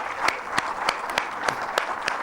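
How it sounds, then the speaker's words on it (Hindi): Audience applause honoring a pioneering female cricketer and police officer: a steady broadband wash of clapping with a few sharper, evenly spaced claps standing out, and no talking over it. "उनके लिए आप भरपूर तालियां बजाएं"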